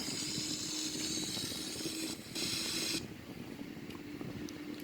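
A Boeing 787 right engine spins up in a flight simulator, a steady broadband whine and hiss with a low hum underneath, holding level before easing slightly quieter partway through.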